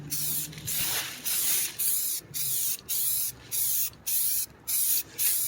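Krylon spray paint hisses from an aerosol can in repeated short bursts onto a car hood, about ten evenly spaced sprays with brief gaps between them, close and fairly loud.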